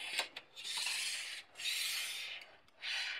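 Metal hardware slides along an aluminium fence base bar extrusion in three long scraping, rubbing strokes, close and fairly quiet, separated by short pauses.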